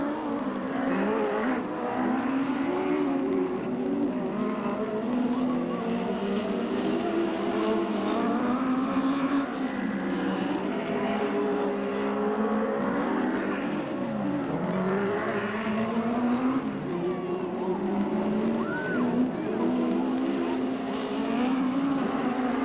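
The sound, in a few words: race cars racing around Delta Speedway oval track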